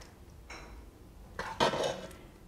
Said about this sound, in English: Start off by putting the ragu sauce in the bottom of your dish.